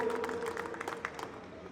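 Faint, scattered clapping from an audience at a Rohini Court felicitation ceremony, a soft spread of hand claps heard at a distance with no voices over it.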